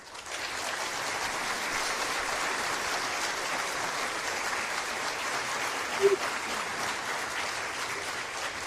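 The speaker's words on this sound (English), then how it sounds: "We all deserve to hear those wonderful applause" A crowd applauds steadily during a game night show, a dense wash of clapping that holds for several seconds, with a few voices faintly audible in the mix.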